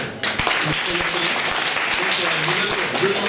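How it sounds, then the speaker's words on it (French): Audience applause at an official state visit in Germany, a dense steady clatter of many hands filling the room for the whole stretch, loud and close, with faint voices underneath. "il faut applaudir pour la dame."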